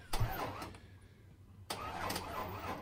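The engine of a junkyard Pontiac Trans Am GT Firebird cranks in two bursts separated by a short pause, a near, rhythmic starter churn that does not catch.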